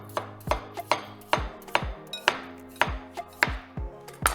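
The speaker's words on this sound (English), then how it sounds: "So we've cleaned our cucumber, now we're gonna cut it in circles" A kitchen knife slices a cleaned cucumber into thin rounds on a slight diagonal, giving about a dozen crisp, evenly spaced chops against a cutting board, close and clear with no talk.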